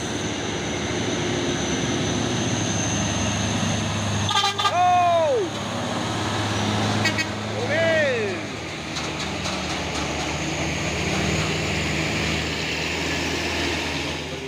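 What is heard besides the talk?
Hino Chamber Euro 4 container trailer truck engine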